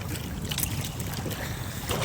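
A fishing boat's engine runs steadily out on the water, a dense low rumble mixed with wind buffeting the microphone and splashing water, with no voices over it.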